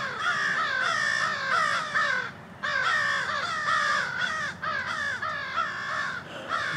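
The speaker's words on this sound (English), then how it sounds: "These crows are annoying." Several crows caw loudly and repeatedly in harsh, rhythmic bursts close by, with no talking, in an outdoor spot during a turkey hunt.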